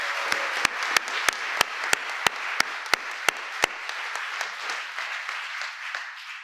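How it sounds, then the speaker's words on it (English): Audience applause at a Labor Day event honoring labor unions, a broad wash of clapping with a few sharp, regularly spaced loud claps in the first half, fading gradually toward the end. "So we should give them a round of applause,"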